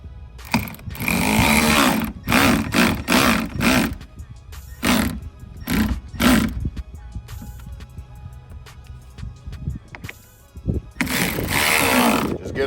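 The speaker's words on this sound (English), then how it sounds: "Take the ratchet." A ratchet tightens screws on Seadoo RXPX 300 fender mounts, making repeated short bursts of rapid, close clicking separated by brief pauses.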